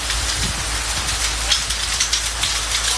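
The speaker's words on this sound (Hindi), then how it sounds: "पंजाब के शहर गोजरा में भी बादल खुलकर बरसे।" Heavy rain pours down in the Punjab city of Gojra, a dense, steady, close hiss of drops that continues unbroken throughout.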